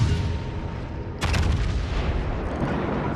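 Heavy warship guns fire in a naval battle game with a sharp broadband blast near the middle, followed by a rumbling, rolling low-end roar, set against continuous booming battle din.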